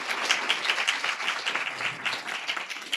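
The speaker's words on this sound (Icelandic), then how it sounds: "gott klapp" Audience applause at a sustainability day business event, a steady, even wash of many hands clapping throughout, moderately distant and without voices over it.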